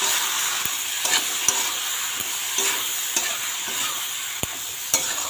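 Shukto vegetables cook in oil in a pan with salt and turmeric, under a constant bright sizzle. Sharp spatula knocks and scrapes come roughly every half second to a second as the vegetables are stirred.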